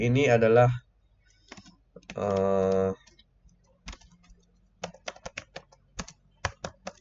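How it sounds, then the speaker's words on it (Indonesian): Scattered clicks of typing on a computer keyboard, irregular keystrokes in short bursts after someone speaks briefly, close and fairly quiet. "Di sini saya akan mengetik yang ini file"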